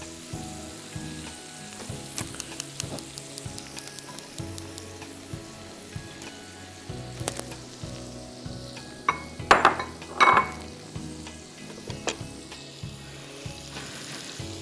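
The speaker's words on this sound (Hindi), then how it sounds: "और इसको हमें शैलो फ्राई करना है जब तक कि लाइट गोल्डन हो जाए" Sliced onions shallow-fry in olive oil and butter with a soft continuous sizzle, broken by frequent spoon-on-pan stirring knocks and a couple of brighter metallic clinks near the end; no one speaks.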